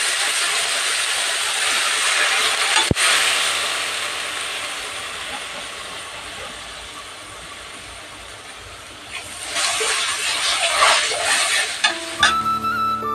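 Dal being fried in a pan and stirred, a steady broadband sizzle with scraping that fades slightly mid-way, then grows louder and busier with clinks near the end.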